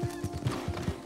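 Rhythmic clip-clop of horse hooves trotting at a steady pace in Red Dead Redemption 2, about five even beats, fairly close with a faint tonal hum behind.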